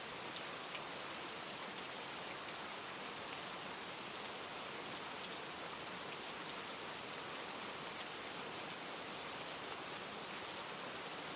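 Steady rain hammers against a roof, a constant dense hiss of drops with no pauses or voices, even and unbroken from start to finish.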